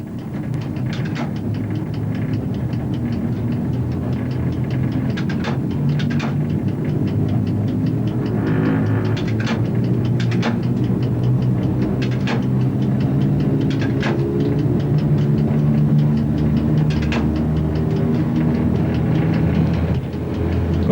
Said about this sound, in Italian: Come si sente dal rumore degli scatti del reostato, la trazione è ora affidata ad una E636.